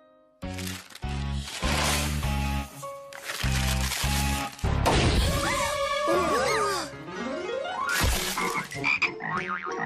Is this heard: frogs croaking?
yes